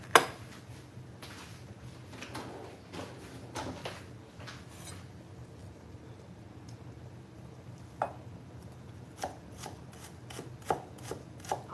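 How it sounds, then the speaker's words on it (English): A knife chops ingredients, including onions, on a cutting board for a Havana meatball pasta in a home kitchen, with scattered close taps in irregular rhythm at moderate loudness and no talking. "I am chopping"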